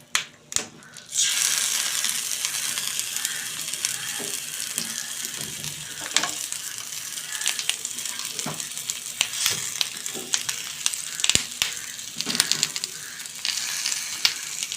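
Pomfret fish paturi parcels wrapped in banana leaves placed one by one into hot oil, sizzling loudly and continuously close by with scattered crackles and handling knocks.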